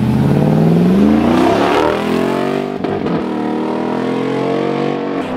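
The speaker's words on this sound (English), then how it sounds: "That Hemi sounds so good" A Jeep Gladiator with a Hemi V8 accelerates hard, its loud engine roar rising in pitch, then easing off into a steadier drone.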